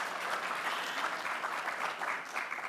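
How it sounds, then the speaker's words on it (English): Steady applause from a seated audience at a tribute gala honoring retiring Mesa Mayor Giles, a dense even clapping that holds at one level throughout with no voices over it. "I'm going to give him a clap."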